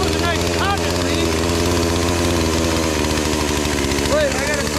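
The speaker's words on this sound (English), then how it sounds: "Yay, the chainsaw works." A chainsaw engine running steadily and loudly nearby, a buzzing two-stroke drone that never lets up, with people talking and shouting over it.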